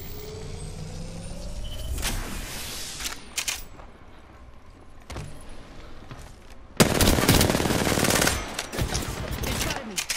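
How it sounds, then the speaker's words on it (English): Gunfire in the video game Apex Legends, with bursts of shots in short clusters and a louder, dense stretch of rapid fire near the end. "They shot at me. I'm taking shots."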